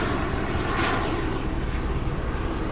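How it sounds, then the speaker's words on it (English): A helicopter passes over the Los Angeles skyline in a film scene, its steady, loud rotor and engine roar filling the air continuously with no voices. "Look at that, we got a helicopter."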